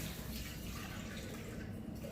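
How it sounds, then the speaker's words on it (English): Water pours off rehydrated plant-based food in a kitchen, a faint, steady trickling and splashing stream that runs without pause. "I'm going to go ahead and just take this water off of here real quick"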